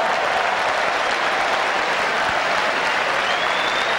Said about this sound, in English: this is the applause that rings around the Waterloo for a veteran